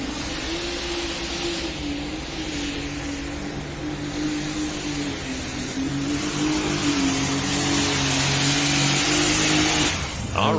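A pulling tractor at a truck and tractor pull in Canton roars under heavy load, its engine droning at a steady high pitch and rising in intensity over several seconds, loud and close with a sharp cutoff near the end.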